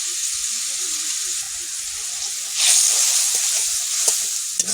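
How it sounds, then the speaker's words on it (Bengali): Spices with ginger powder, onion, garlic and raw turmeric simmering in a pan with a splash of water, giving a steady close sizzle and bubbling hiss that swells briefly midway, with faint kitchen clatter. "এইভাবে মশলা ফুটতেছে"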